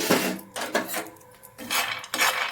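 Peanuts being dry-fried in a pan for shenga holige are tossed and stirred, giving a few rattling, scraping bursts of nuts and utensil against metal in a quick uneven rhythm, close up, no voices.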